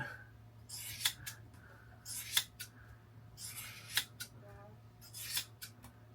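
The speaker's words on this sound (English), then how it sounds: "I got my nice Milwaukee scissors right here, and we just kind of eyeball it out like this" Several crisp snips of Milwaukee scissors cutting hair come in quick clusters, close and quiet, with a steady low hum underneath.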